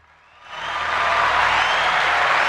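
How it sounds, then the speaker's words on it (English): A podcast host's young son, Chase, gets a round of applause, likely from a small crowd or studio track. It rises from near silence over half a second into a steady, dense wash of clapping that holds to the end, with no talk over it. "give him a round of applause"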